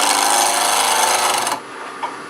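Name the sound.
woodturning tool cutting small chunks from wood on a lathe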